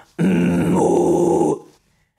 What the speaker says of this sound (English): take the same note and place your false chord on top of it and go easy on that